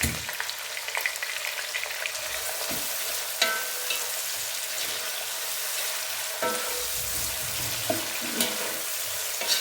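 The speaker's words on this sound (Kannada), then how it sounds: "ಆನಿಯನ್ ಫ್ರೈ ಆಗ್ತಾ ಇದೆ ಫ್ರೆಂಡ್ಸ್." Chopped onions with a pinch of salt sizzle steadily in a hot pan, a continuous close crackle with occasional louder pops and the scrape of stirring, no voices over it.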